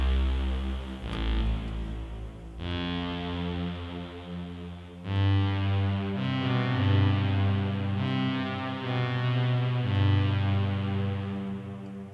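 A Roland JX-08 synthesizer plays a bowed string patch with onboard reverb, sustained chords that swell and change in several long phrases, rich and loud with no talking.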